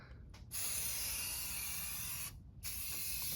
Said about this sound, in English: Looks like she's trying a little rattle can spray